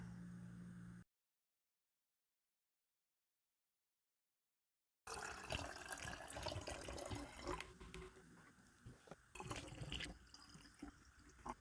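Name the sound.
water being poured into a bottle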